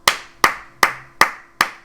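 Five sharp hand claps at an even, steady pace, close and crisp, given as applause for Knicks forward Julius Randle after a win over the Nets.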